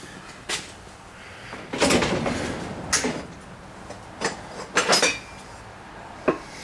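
A seized snow blower shift mechanism is tapped with a tool, giving a few sharp metallic knocks spread irregularly across a quiet background, a couple of them doubled, close and moderately loud, with no talk.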